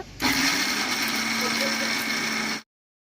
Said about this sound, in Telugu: ఇప్పుడు ఆ పుట్నాల పప్పు మిక్సీలో వేసి పౌడర్ చేసుకోవాలి